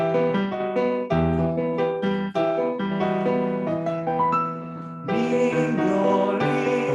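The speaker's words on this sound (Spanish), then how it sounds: "¿Se escucha mi piano allá?" Piano playing a Venezuelan aguinaldo Christmas carol, a bright rhythmic melody with sustained chords and a steady lilting pulse, close and clear, heard alone.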